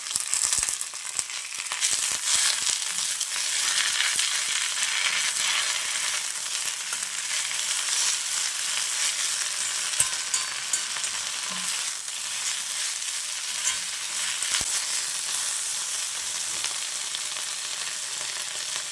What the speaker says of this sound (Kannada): ಚೆನ್ನಾಗಿ ಫ್ರೈ ಮಾಡ್ಕೊಳ್ಬೇಕು